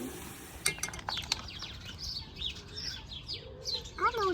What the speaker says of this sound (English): hello, little parrots.